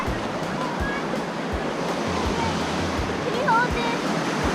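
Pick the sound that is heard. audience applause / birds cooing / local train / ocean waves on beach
ocean waves on beach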